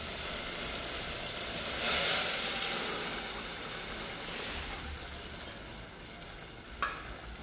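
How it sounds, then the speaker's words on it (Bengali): Boiled black chana tipped into a hot pan while making Nagpur tarri poha, a steady sizzle and stirring hiss, with a brief rush around the pour and a sharp clink near the end, no talking. "তো চলুন উপর থেকে আমি এখন এই কালো চানাটা ঢেলে নেব।"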